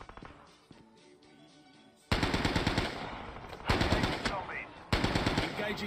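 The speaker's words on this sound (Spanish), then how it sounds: "hay gente allí disparándole a los zombies" Rapid automatic gunfire from players shooting zombies in Call of Duty Mobile during a Christmas event, in loud repeated bursts with short pauses between them over quieter game sounds.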